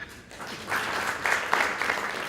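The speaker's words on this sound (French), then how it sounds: "Je vous demande d'applaudir." Applause from a conference audience on SME development welcoming Moussa Alassane Diallo, building from a quiet start into a steady wash of many clapping hands with a few sharper claps standing out.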